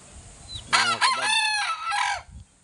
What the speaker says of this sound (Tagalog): ingay ng manok dito, daming manok